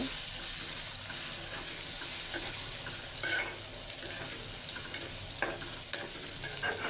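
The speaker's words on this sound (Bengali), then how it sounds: "এই সব কিছু দিয়ে দিলাম এখন সব কিছু আমি কষিয়ে নেব" Vegetables and ground spices being stir-fried in a pan for a Bangladeshi lunch dish, giving a steady close sizzle with scraping stirs and occasional clinks of the spoon against the pan.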